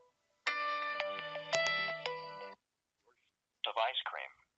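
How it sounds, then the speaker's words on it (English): An incoming call sets a phone ringing with a bright, tonal ringtone melody for about two seconds, loud and clear against silence. A voice follows after a short gap. "I've got my phone on screen. I'm expect a call, and there it is"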